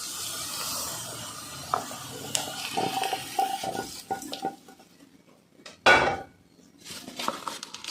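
Crushed potatoes are mixed with a hot spice tempering for kat vada, a metal spoon scraping and clinking against the pan in irregular bursts with a few sharp knocks, fairly close and quiet.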